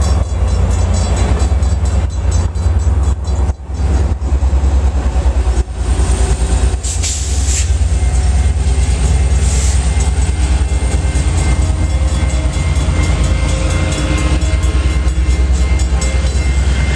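An Amtrak passenger train rumbles past northbound at close range, loud and sustained, with rhythmic clacking of wheels and brief metallic squeals.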